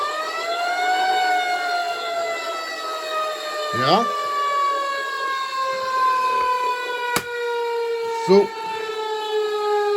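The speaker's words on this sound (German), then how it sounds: "Dann haben wir die Sirene." A siren tone from a vehicle sound module, a smooth wailing pitch gliding slowly downward and held steady and loud, with a few short clicks and brief spoken words over it.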